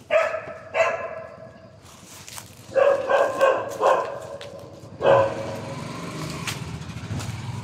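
Several dogs bark in bursts, a cluster of sharp barks at the start, another mid-way, and more near the end, over steady outdoor background noise.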